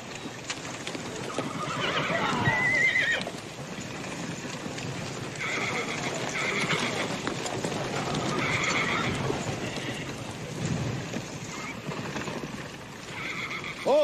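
Several horses clop and shuffle nearby, with occasional whinnies and snorts, amid faint background voices.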